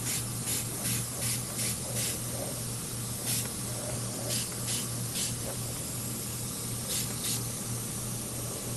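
An airbrush spraying Apple Barrel craft paint onto a 3D printed model gives short hissing bursts in irregular clusters over a constant low compressor hum.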